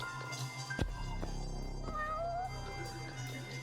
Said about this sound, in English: First, give me cat noise. Is there a cat here?